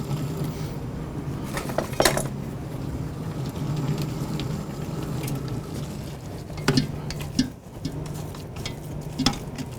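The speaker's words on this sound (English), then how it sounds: "I'm going to use a rubber spatula to clear out the sides." A rubber spatula scrapes choux paste off the sides of a cooking pot, giving a steady wet sizzling texture broken by a few sharp scraping strokes and soft knocks against the pot at close range.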